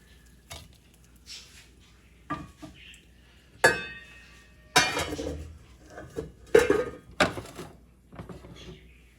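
Plates and cutlery clink and clatter in a home kitchen as caramelized food, browned on both sides, is served out; scattered sharp knocks and scrapes, close and moderately loud, with quiet gaps between them.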